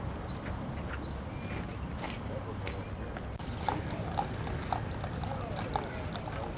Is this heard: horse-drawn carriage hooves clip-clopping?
yes